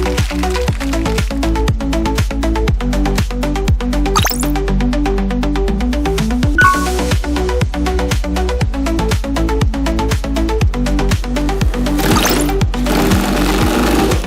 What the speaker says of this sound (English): Now let's take a look at how to sew a container bag using the DR-3A.